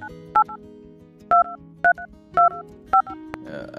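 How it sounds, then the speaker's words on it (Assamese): Five crisp touch-tone beeps, evenly spaced, as a phone number is keyed in during an Assamese audio drama, set over a soft background music bed. "তাইলৈ ফোন লগায়"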